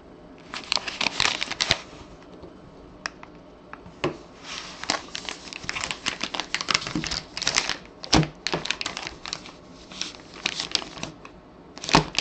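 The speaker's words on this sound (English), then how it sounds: "I'll just shuffle them and I'll pick one." Rapid riffling and flicking of baseball trading cards in repeated bursts, close and crisp, with short pauses between shuffles.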